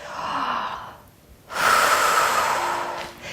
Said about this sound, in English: And now breathing into the rib cage.